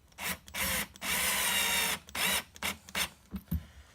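A power screw gun drives marquee screws into a mini arcade cabinet, giving a run of close, loud motor whirs: short bursts, one long sustained drive, then several quick stop-start pulses with no talking.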